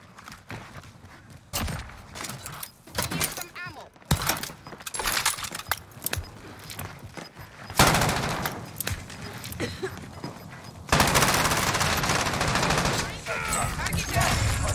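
Bullfrog gun firing in a Call of Duty game, several separate rapid bursts of close, loud shots broken by short pauses, with a long sustained volley at the end and game noise and talk between bursts.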